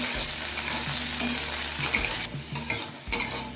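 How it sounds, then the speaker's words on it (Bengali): Potatoes fry in a pan with black cumin, giving a steady, close sizzle broken by scraping and stirring sounds from a utensil moving against the pan. "এখন আলুটা দিয়ে দিচ্ছি এবার আলুটা মিডিয়াম থেকে কিছুক্ষণ সময় নিয়ে ভেজে নেব"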